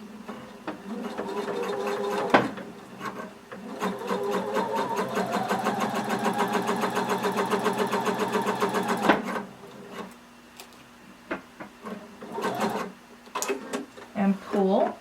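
A sewing machine stitches a seam through fabric in a steady, rapid mechanical rattle for several seconds, then stops, followed by softer handling clicks and bumps.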